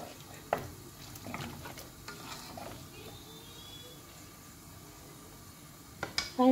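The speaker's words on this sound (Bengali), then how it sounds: "আমি এখন তিন থেকে চার মিনিট পেঁয়াজ টুঙ্গা মশলাটা কষাই" Onion and spice mix for tengha fries quietly in a pan, with soft sizzling under scattered scraping and clicking stirs, ending in a few louder knocks of the spoon, close by and without talk.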